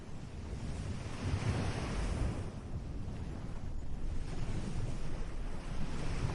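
Ocean waves break and wash onto a beach on a calm day, a steady rolling surf with wind rushing across the microphone, moderately loud and with no voices.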